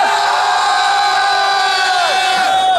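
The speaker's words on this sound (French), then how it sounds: "La foule en délire, je veux vous entendre." A large crowd at Japan Expo cheers and yells loudly and continuously, with whoops and shouted voices swelling together in a sustained roar.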